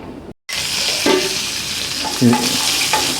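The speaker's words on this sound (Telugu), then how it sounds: "నూనె అది వేసి, పోపు అది వేసి నేను ప్రాసెస్లోకి వెళ్తాను రండి" Steady hissing sizzle of mustard seeds, fenugreek, urad dal, chana dal, turmeric and asafoetida frying in hot oil, loud and close, with a brief silent gap near the start and occasional clinks of a utensil.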